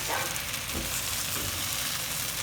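Bitter melon sautéing in a pan sizzles and crackles steadily throughout, a close, continuous frying hiss with faint stirring scrapes and no voices.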